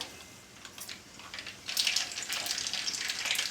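Mustard seeds and cumin hit hot oil in a pan while tempering for a mango pickle. A soft hiss swells into a louder, steady sizzle with scattered sharp crackles and pops, close by and with no talk.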